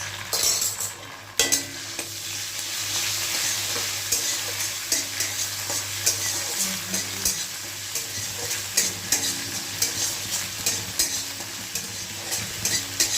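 Ginger paste frying in a pan with radhuni spice, stirred with a metal utensil: a continuous close sizzle overlaid by repeated rhythmic scrapes and clinks against the pan, with no voices.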